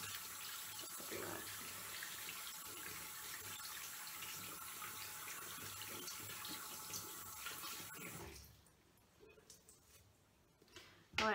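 Tap water runs steadily into a sink while meat is rinsed after its skin is removed, a constant broadband rush that stops abruptly near the end, leaving only faint handling noises.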